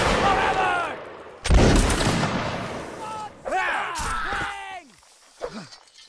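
Red-coat reenactors fire a musket volley: a loud, sharp blast booms out, then a second ragged burst a few seconds later, with shouted commands and voices around it.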